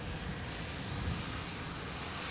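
Engines of a Cathay Pacific airliner at Anchorage airport roar in a steady, loud, broadband rumble, unbroken throughout and without any voices.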